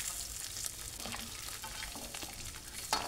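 Food fries in hot cooking oil in a home kitchen pan, a steady close sizzle and crackle with scattered louder pops, no voices over it.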